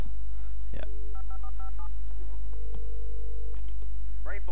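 Short beeping touch-tone keypresses of a telephone being dialed in the video game Alan Wake, a quick string of paired tones followed by one longer tone, with low background ambience and brief noises around them.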